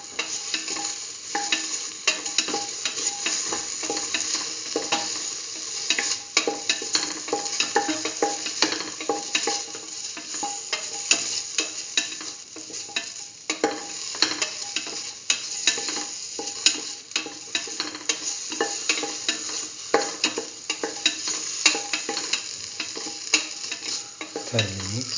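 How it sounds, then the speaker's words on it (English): A cauliflower and chayote mixture is sautéed and stirred in a pan, with a steady sizzle and the scrape of the utensil running continuously and evenly throughout, close and fairly loud. "Thoroughly saute and mix."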